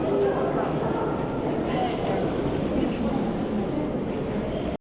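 Inside the tunnels of a Paris metro station, a dense, steady low rumble fills the space without a break, loud and continuous like trains moving through the underground.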